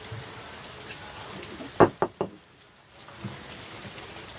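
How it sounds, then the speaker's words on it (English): Rain falls steadily as a soft, even hiss outdoors, broken by a few sharp knocks near the middle, with no voices. "Rain's coming down more."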